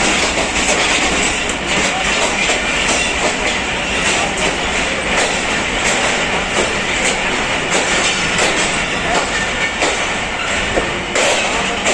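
The Jaffar Express at the Lahore Junction platform gives off a loud, continuous rumble of railcars with rhythmic clicking and clattering of wheels, and faint squeals now and then.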